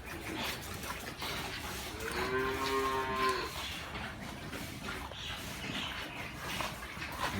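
Cows on a farm in the morning: one clear, drawn-out moo rises out of a soft background of farmyard noise, fairly faint and a little distant.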